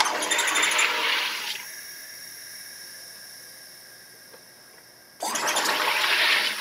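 A SodaStream carbonating a drink gives two loud bursts of hissing gas, one at the start and one near the end, with a quieter fizzing lull between them.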